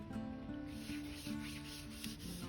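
A cloth rubs over a canvas painting in steady back-and-forth strokes, a soft continuous scuffing close by with faint rhythmic swells and no talking.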